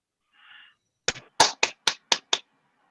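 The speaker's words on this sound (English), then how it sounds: "Please put your hands together. Give a virtual applause." Six sharp, distinct claps in an even rhythm, close and crisp, as virtual applause in an online meeting, preceded by a short faint tone.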